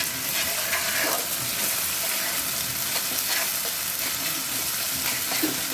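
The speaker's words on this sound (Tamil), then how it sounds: "ஒரு டீஸ்பூன் அளவுக்கு இஞ்சி பூண்டு பேஸ்ட்டு போட்டு நல்லா ஃப்ரை பண்ணிடணும்." Ginger garlic paste frying in a pan for gongura chicken, a steady close sizzle with occasional stirring scrapes throughout, no talk.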